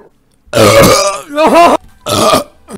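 A loud close burp rumbles in three long drawn-out bursts separated by brief pauses, with no talking around them.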